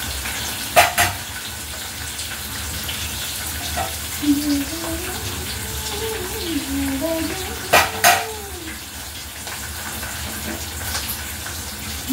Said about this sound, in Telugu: పోపు వేగుతూ ఉంటుండగా మూత దగ్గర పెట్టుకోండి